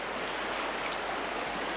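Fast-flowing river water during trout fishing, a steady broadband rushing that stays loud and even throughout, with no talking.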